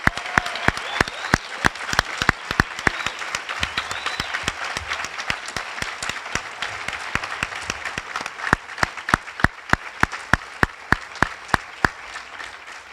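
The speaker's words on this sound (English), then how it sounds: "can we get an awesome round of applause for these graduates?" Graduation audience applauding the 2016 DMA and EDA graduates, a steady crowd of clapping hands with sharp individual claps standing out, sustained and fairly loud throughout, thinning slightly toward the end.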